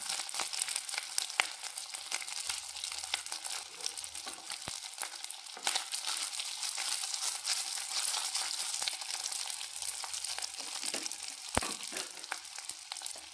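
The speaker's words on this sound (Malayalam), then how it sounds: "ഇനി നമുക്ക് ചോറിട്ട് കൊടുക്കാം നമ്മൾ വേവിച്ച് വെച്ച് ജീരക റൈസാണ് കൊടുക്കുന്നത്" Cooked jeera rice tossed and stirred in a hot frying pan, a steady dry sizzle and crackle with scraping stirs running continuously, close and fairly loud with no talking.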